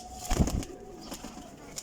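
Teddy Golden champion flying pigeons coo from a loft, one short low throaty coo close by, followed by a softer flutter and faint background noise.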